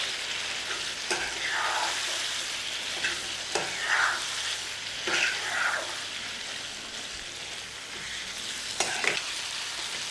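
Mutton chukka stir-fried with curry leaves and coriander leaves in a pan, a continuous sizzle with scraping and tossing strokes every second or two, close by, no voices.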